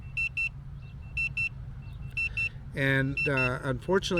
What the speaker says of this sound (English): you guys are going to hear that beeping